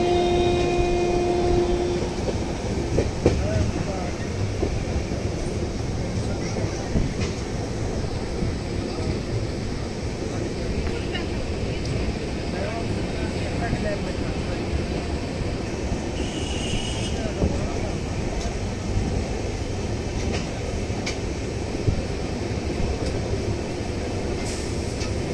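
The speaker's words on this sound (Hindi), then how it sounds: "गोरखपुर स्टेशन से डिपार्ट करते हुए ट्रेन" The 15103 Banaras-Gorakhpur Intercity Express pulls out of Gorakhpur Junction with a steady, heavy rumble of rolling wagons that holds for the whole stretch, and a brief horn-like tone near the start.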